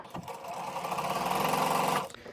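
Quilt block pieces are chain stitched on a sewing machine set to a 1/4 inch seam and a 2.4 stitch length, giving one close, steady run of rapid needle clatter for about two seconds before it stops abruptly.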